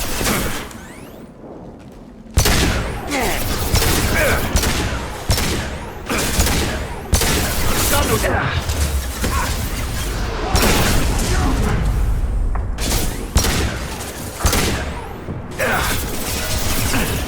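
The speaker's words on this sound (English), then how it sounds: "Firing concussive shot!" Concussive shot fire in Mass Effect 2 comes as a dense run of heavy booms, mechanical clanks and weapon blasts, loud and near, with repeated sharp hits over continuous combat noise.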